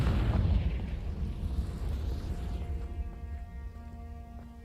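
A Confringo blasting spell explodes in Hogwarts Legacy, a heavy, close blast with deep rumble that decays over a few seconds into a lingering low hum, with no talking.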